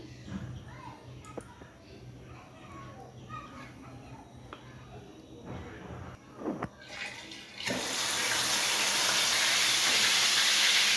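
A tuna of about 1.5 kg frying in hot oil, starting with quieter kitchen sounds under a voice, then bursting into a loud, steady, close hiss of sizzling for the last few seconds.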